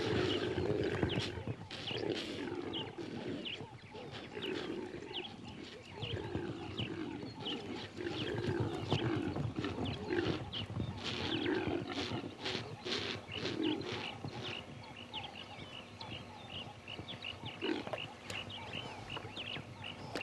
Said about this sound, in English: Young males in the bachelor herd gallop about to show off and impress.